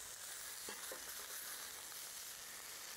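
Feta-stuffed pork rolls sizzle on a grill as they are turned, giving a steady, faint hiss of frying with a few soft scrapes and no voices.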